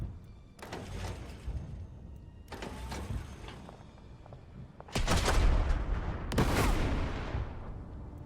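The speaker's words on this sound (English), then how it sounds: "Their unit firing for a third time there." Tank units firing in a WWII tactical video game, Total Tank Generals: four distinct cannon blasts spaced a few seconds apart, the last two louder and heavier, each with a rumbling decay.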